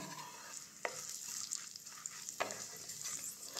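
Black cumin seeds, rubbed by hand, tempering in hot oil for a potato curry: a faint steady sizzle near at hand, broken by two sharp stirring knocks, with no voice over it.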